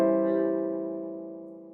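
A single sustained dominant seventh sharp nine chord, the funk staple, sounds once and rings out alone, decaying slowly over under two seconds.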